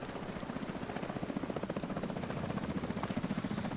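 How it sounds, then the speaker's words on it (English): A helicopter in The Division 2 gives a steady, close rotor chop with a fast rhythmic thumping and engine buzz. It runs continuously throughout with no talk over it. "Alright, now we're going to get the old helicopter."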